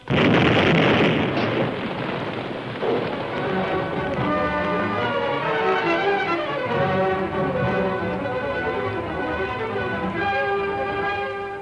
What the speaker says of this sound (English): Yeah, we heard the explosion.